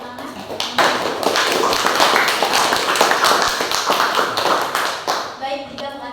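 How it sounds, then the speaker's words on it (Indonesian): Steady applause from a group fills the room, dense and even, tapering off near the end as a voice begins speaking. "Kasih tepuk tangan."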